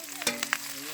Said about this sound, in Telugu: టమోటా ముక్కల్ని వేసుకున్నాము